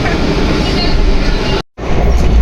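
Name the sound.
moving train to Shantiniketan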